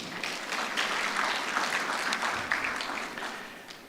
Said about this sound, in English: A round of applause for Dr. Okungu.